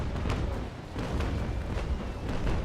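Brig cannons fire in the naval game Naval Action Legends, a few deep, muffled booms rolling one after another over a low, continuous rumble.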